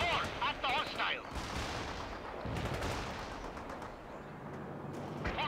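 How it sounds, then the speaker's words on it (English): An AT-4 launcher fires in the World in Conflict video game, a loud blast with rolling gunfire and artillery-like booms carrying on through the clip, while a radio-style voice chirps briefly at the start. "Launching AT-4 at the hostile."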